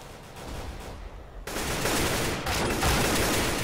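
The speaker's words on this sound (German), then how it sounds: "Schöner zweiter Schuss von Jensen." Gunfire in a Counter-Strike match on de_dust2: a muffled burst, then a louder dense fusillade of shots kicking in and sustaining to the end, with no voices.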